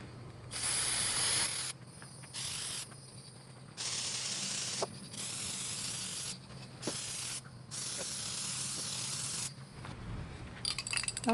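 A spray paint can hissing onto a glass flower in repeated bursts of varying length, close and loud, separated by short quiet gaps with a few light clicks.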